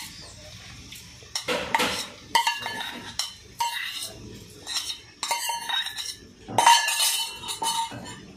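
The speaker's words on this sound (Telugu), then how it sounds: "ఇందులోనే దొండకాయ ముక్కలు కూడా వేసి కచ్చాబెచ్చ దంచుకుందాం" Ivy gourd pieces pounded with green chillies, sesame and cumin in a stone mortar: repeated uneven thuds and clinks of the pestle in bursts, close and fairly loud, with no talking.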